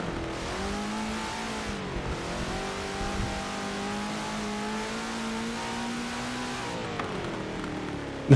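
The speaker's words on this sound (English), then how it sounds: "The Corvette just sounds fantastic." A Corvette race car engine revving and accelerating during a GT race, a loud sustained rising roar with gear changes and dips, close and alone without talk.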